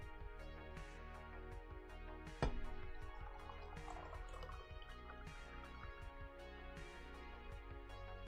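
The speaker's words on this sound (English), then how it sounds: "Let's pour some lemonade." Lemonade pours into a glass in a faint, steady trickle with soft drips and a splash near the start, heard quietly at close range without talking.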